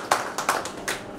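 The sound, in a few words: audience applause at seminar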